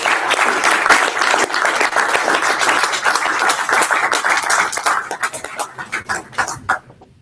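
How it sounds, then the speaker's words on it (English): Audience at a finance speaker event applauds outgoing officers with dense, steady clapping that thins into scattered claps before ending. "I think we should offer a round of applause to the outgoing FMA officers."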